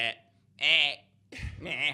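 A voice imitates a distressed giraffe with two strained, bleating cries, the first drawn out and the second rougher with a low rumble, separated by a short pause and close to the microphone.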